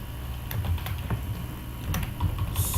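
Keys clatter on a computer keyboard in irregular bursts of close, crisp clicks, with a brief louder flurry near the end, no voices.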